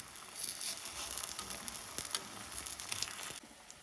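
Eggplant slices sizzle and crackle steadily in a hot frying pan, a close, continuous hiss with small pops, no voices, before quieting at the end.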